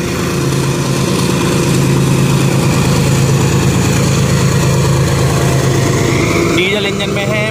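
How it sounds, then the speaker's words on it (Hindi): Diesel locomotive hauling a freight train, a loud continuous low engine rumble close by with a steady throb that shifts near the end, while a person talks over it. "डीजल इंजन लगा हुआ है।"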